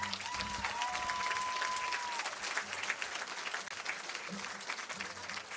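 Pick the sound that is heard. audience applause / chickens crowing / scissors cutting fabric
audience applause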